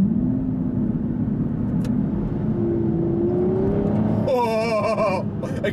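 A 5.9-litre V12 in an Aston Martin V12 Vantage S supercar accelerating hard in Sport mode, a loud sustained engine roar heard from inside that climbs in pitch, then rises sharply through rapid revving in the final seconds.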